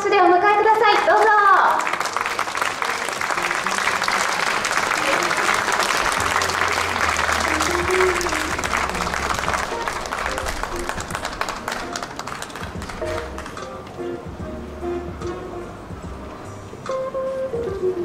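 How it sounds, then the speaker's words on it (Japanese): Audience applause greets a band at a live anti-nuclear, renewable-energy concert in Japan: sustained, dense clapping from a crowd fills most of the span, fading near the end as instruments begin. "皆さん大きな拍手でお迎えください。"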